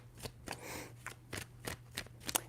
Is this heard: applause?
no